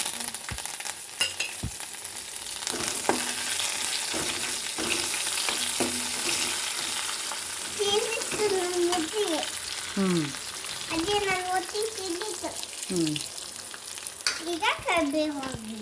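Garlic and curry leaves frying in oil for a toor dal and drumstick leaf dish, a continuous loud sizzle with stirring scrapes, while birds chirp in the background.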